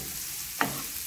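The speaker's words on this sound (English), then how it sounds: "I'm going to add my onion and just stir it around so that the onion can get coated with the olive oil" Chopped onion dropped and stirred into hot olive oil and rendered pancetta fat, giving one brief close scrape-and-sizzle burst over a low steady frying hiss.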